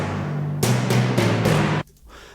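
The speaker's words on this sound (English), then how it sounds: "timpani sounds that I'm playing as a sort of a root for the whole thing" Deep timpani hits rolling a steady low root under a theme tune arrangement, with broad booming strokes landing about every third of a second, loud and full, then cutting off abruptly into near silence.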